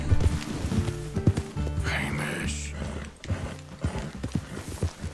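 Horse in the Red Dead Redemption 2 video game, loud close hoof clatter with a whinny partway through, under game sounds and someone talking.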